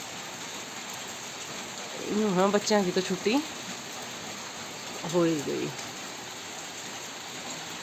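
Steady winter rain falls as a constant broadband hiss throughout, with a person talking over it in two short bursts.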